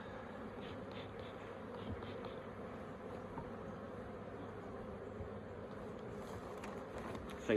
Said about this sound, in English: Push these bees down.